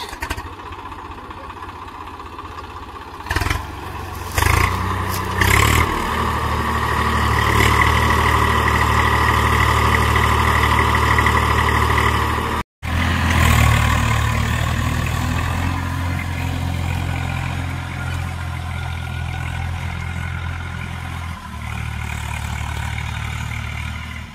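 A tractor engine idles and runs steadily in a sugarcane field where the tractor is stuck, a loud continuous low rumble with brief shifts in pitch and one short dropout.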